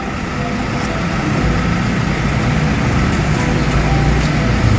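Steady road traffic rumble from inside or beside a moving car in Surakarta, a continuous low engine and tyre drone that swells slightly toward the end, with faint background activity.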